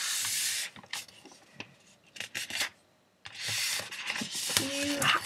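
A square of paper being folded diagonally in half for an origami boat, with close rubbing and creasing rasps in several bursts and short gaps between them.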